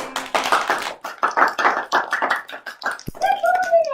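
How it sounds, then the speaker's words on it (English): A school class of young children claps for themselves after singing, in close, uneven bursts that stop abruptly, followed by a voice speaking. "Give yourselves a clap."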